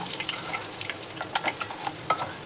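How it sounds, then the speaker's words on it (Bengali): Chicken pieces frying in small batches in hot oil for chilli chicken, a steady crackling sizzle with scattered sharp pops, close and fairly quiet, no talking. "অল্প অল্প করে ফ্রাই করে নিতে হবে"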